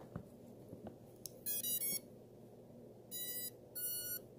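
Three bursts of rapid electronic beeping from a drone's motors, the last two pitched higher, over a low mechanical hum.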